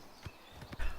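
Faint horse hooves clip-clopping on the ground in the video game Oblivion Remastered, a few soft, unevenly spaced footfalls under a steady background ambience of game sound.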